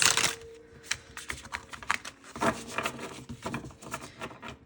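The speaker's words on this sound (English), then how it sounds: "My way of shuffling is like this." Tarot cards are shuffled by hand in a simple overhand style, giving close, soft papery rubs and light flicking taps in an uneven rhythm with no talking.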